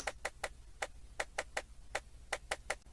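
A hi-hat groove built from a pitched-up Wii Tennis sample, a quick run of light, bright ticking hits in a syncopated pattern, soft and steady.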